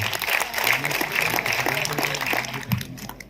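An audience in an auditorium at an awards ceremony claps in a steady burst of applause for several seconds, fading toward the end, with a voice speaking over it.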